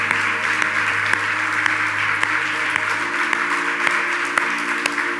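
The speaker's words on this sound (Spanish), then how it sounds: "Dale un aplauso fuerte a Jesucristo" A church congregation claps for Jesus Christ in sustained, steady applause with occasional sharper claps standing out, loud and continuous throughout with no talking.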